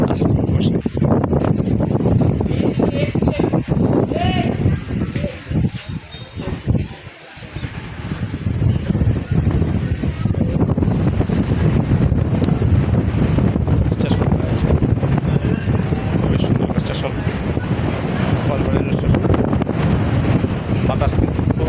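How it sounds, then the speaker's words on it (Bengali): Strong wind blows across the far side of a railway station platform lined with many trees, a loud, continuous rushing buffet against the microphone with one brief lull partway through. "বাতাস কিন্তু খুব জোরে বইছে"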